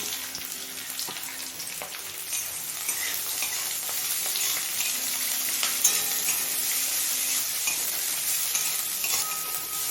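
Chopped onions sizzle steadily in oil spiced with fried chilli masala, a dense continuous crackle with occasional stirring scrapes, close and fairly loud throughout with no talking.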